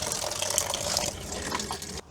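Coolant gushes out of the radiator of a BMW E46 after a blue drain screw is undone, a steady loud splashing pour into a container that cuts off abruptly at the end.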